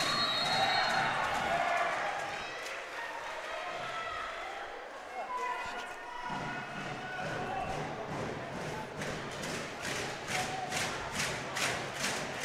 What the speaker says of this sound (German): Und ein kräftiger Wurf. Da jubelt die Halle,